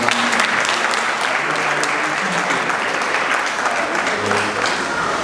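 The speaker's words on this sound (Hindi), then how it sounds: "एक बार जोरदार ताली बजाएं।" A seated crowd at a Hindu temple gathering in Melbourne claps vigorously in sustained, even applause, with faint murmuring voices underneath.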